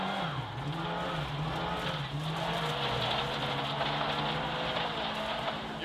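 A rally car runs through a corner during a rally driving lesson, its engine droning steadily near and loud with a wavering pitch, over a constant wash of road and gravel noise.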